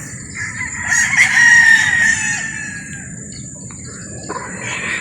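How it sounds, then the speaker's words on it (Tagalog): A rooster crows loudly nearby at a gamefowl farm, one long drawn-out call, followed by softer clucks and chirps from other birds. "napakagwapong manok yan"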